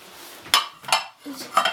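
Ceramic plates are set on a table, clinking and clattering three times in quick succession, close by, with a soft shuffle between the contacts.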